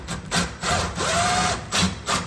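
A knife blade is rubbed hard against a stuck part to loosen it before unscrewing, giving close scraping, grinding strokes with a brief squeaky whine in the middle.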